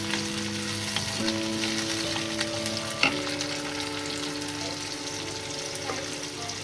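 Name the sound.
onion and tomato frying in a pan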